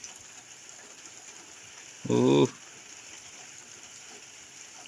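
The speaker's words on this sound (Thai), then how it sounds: "ฝนตกแล้วพี่น้องฝนตกเดือนห้าพายุเข้าอีกแล้ว" Heavy rain from a storm over rice fields makes a steady, soft hiss, and a man's short exclamation rises briefly above it midway.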